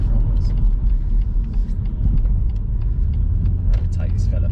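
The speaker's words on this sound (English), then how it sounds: "just give it the beans up the hill. See what 400 brake feels like" A BMW M140i Shadow Edition with about 400 brake horsepower accelerates hard up a hill. A loud, close, steady engine and road rumble fills the cabin, with voices talking underneath.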